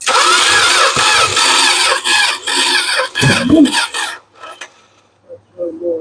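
A Dodge Aspen engine cranks repeatedly and tries to start, coming in several loud bursts of rough, rasping turnover with gaps between them, then fading to quiet.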